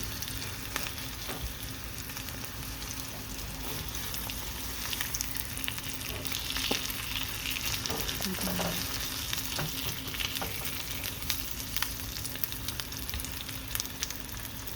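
Homemade longganiza sausage fries in a pan with a soft continuous sizzle and occasional light stirring clicks, fairly quiet and steady throughout without speech.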